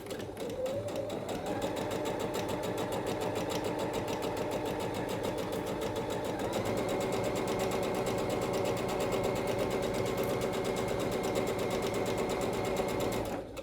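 A sewing machine stitches a seam through fabric, running steadily and continuously from start to finish with a dense, rapid mechanical whir and no talking.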